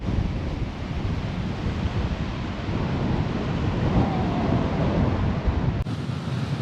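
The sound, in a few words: strong wind on a beach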